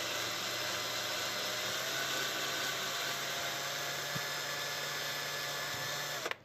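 A power drill bores into PVC pipe with a steady high whine that holds evenly for several seconds and then stops abruptly, close and alone.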